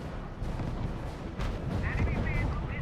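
Gunfire and heavy artillery blasts from the RUSE strategy game, battling at Kasserine Pass: a dense, loud roar of shots and booms with a short synthetic voice line over the barrage.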